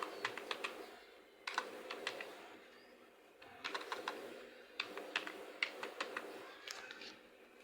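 Quick bursts of keystrokes on a computer keyboard as a word is entered into a search box, soft close clicking in short clustered runs separated by brief pauses.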